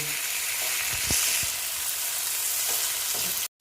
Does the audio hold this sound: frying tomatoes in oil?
yes